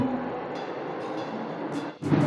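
A Bangalore metro train on the north-south line runs with a steady, close rumble and hiss, broken near the end by a brief dip and then a louder surge.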